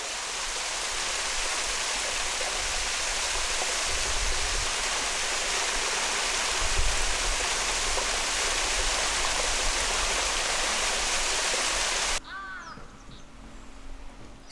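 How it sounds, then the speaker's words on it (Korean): Guseong Falls on a mountain trail near Cheongpyeongsa temple in Chuncheon, winter, pours as a loud, steady broadband rush of falling water that fills the scene, cutting abruptly near the end to quieter ambience. "폭포는 참선하는 사람의 마음가짐에 따라 9가지 소리로 달리 들린다고 한다."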